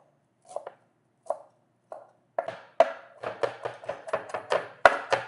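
Knife chopping and mincing squeezed-together greens for a garnish for Ethiopian misir wat, starting with a few separate cuts and speeding into a steady run of close, crisp board knocks, heard alone.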